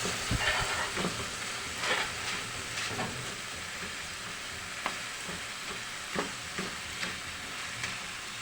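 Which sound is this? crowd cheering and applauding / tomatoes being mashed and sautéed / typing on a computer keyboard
tomatoes being mashed and sautéed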